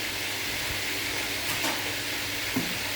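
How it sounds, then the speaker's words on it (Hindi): Chicken frying in a pan gives a steady close sizzle and hiss that runs continuously, with a couple of soft clinks or stirring knocks near the middle and end and no speech. "जब तक चिकन फ्राई होता है"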